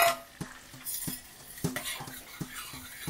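Browning butter with brown sugar and salt is stirred gently in a pan, with soft, repeated utensil taps and scrapes against the metal over a faint sizzle, close and quiet.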